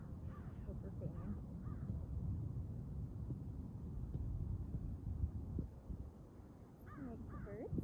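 Crows caw outdoors at a distance, a few short harsh calls at the start and again near the end, faint beneath low wind noise and the scuffle of a dog at play.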